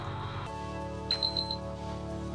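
A PS5 console gives its start-up beep, a short run of four bright, evenly spaced tones over a faint steady hum.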